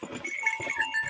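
Goats brought along by an uncle at a farm during a Makar Sankranti gathering, heard as a nearby cluster of bleats in quick succession with a little background bustle.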